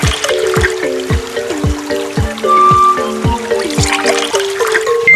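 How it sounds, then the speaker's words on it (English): Water pours and trickles from an egg into a hole in a Dinosaur Train video game, a run of repeated gurgling, bubbly drops in quick bursts with a few tonal chimes, loud and close. "That egg held the right amount of water to fill that hole."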